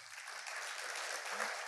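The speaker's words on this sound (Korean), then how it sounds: "박수로 한번" Audience clapping after a lecturer's call at a Korean talk, a steady dense patter of many hands sustained throughout at moderate level.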